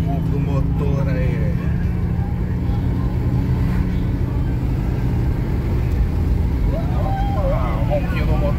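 Engine of an Audi A4 idling at night, a steady low rumble filling the whole clip at close range, with a voice talking over it.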